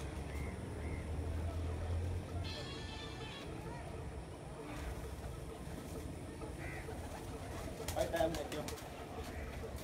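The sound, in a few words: pigeons on a rooftop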